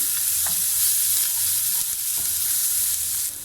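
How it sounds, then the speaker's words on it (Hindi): Chopped onion sautés briefly in hot oil for a chicken keema filling for crispy mat samosa, giving a steady, close, dense sizzle with light stirring throughout and no talking. "प्याज को थोड़ा सा सौते कर लेंगे"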